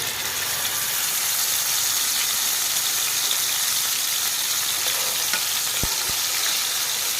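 Mint (pudina) paste sizzling in a pan of hot oil while cooking pudina rice: a loud, close, continuous frying hiss with a couple of sharp knocks near the end, no speech.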